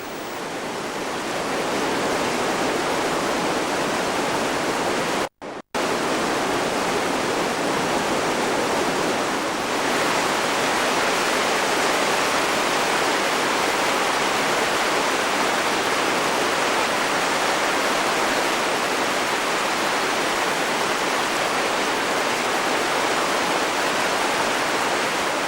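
Water rushes steadily along Stye Head Gill, a Lake District mountain stream, as a loud, continuous broadband roar that runs unbroken except for a split-second dropout.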